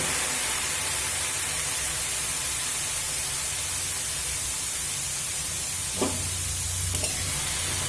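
Grated carrots sizzle steadily in hot ghee in a pan for carrot laddu, a continuous close frying hiss with a couple of brief stirring knocks near the end and no talking.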